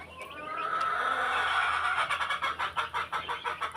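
Texas and Rhode Island Red chickens clucking on a farm, first a longer drawn-out call, then a quick run of rhythmic, fairly close clucks in steady pulses.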